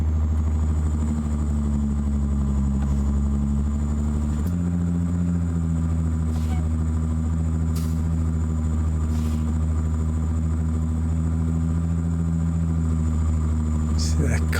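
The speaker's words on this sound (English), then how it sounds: "See that constant repeat sound really ruins this engine for me." Truck engine in American Truck Simulator, a Pitts Logger rig, running steadily with a constant low rumble and a faint repeating note throughout, droning alone at even loudness.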